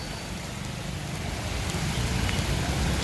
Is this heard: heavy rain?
yes